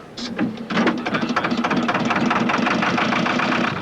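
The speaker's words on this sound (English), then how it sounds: "John, start the engine, John." An ocean liner's ship engine starts with a few uneven heavy pulses, then settles into a loud, steady, rapid knocking rhythm close by. No voices over it.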